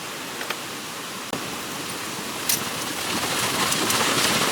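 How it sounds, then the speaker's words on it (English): Steady rain falls outdoors during a heater core replacement on a 1997–2001 Jeep XJ. It makes an even, dense hiss that grows slightly louder, with a few faint drips and clicks mixed in. "Sorry about the rain."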